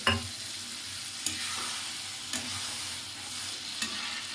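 Prawns frying in a pan with a splash of water added give a steady, close sizzle, broken by a few sharp spoon knocks and scrapes of stirring spaced about a second apart.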